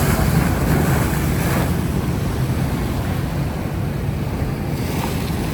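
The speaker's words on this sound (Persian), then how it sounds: "شما بیننده های عزیزم صدای دریا گوش کنید" Sea waves wash onto the shore in a steady, continuous roar with a gusty wind rumble over the microphone, close and fairly loud throughout, with no voices.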